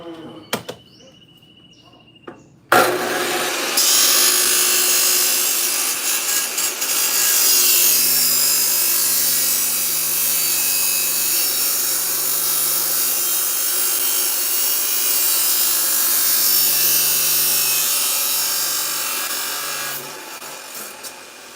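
A 14-inch Makita metal chop saw cuts through a scaffold piece, a loud, steady abrasive grinding roar that holds for about seventeen seconds before winding down, with faint handling noises before it starts.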